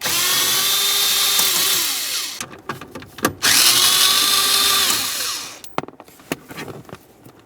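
A power drill backs out 7mm dash bolts on a 2001-2005 Ford Explorer, two close, loud whirring runs that wind up and coast down, separated by clicks and handling noises.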